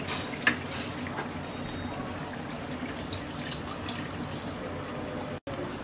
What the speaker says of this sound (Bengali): এ পর্যায়ে আমি দিয়ে দিচ্ছি 1 কাপ নারকেলের দুধ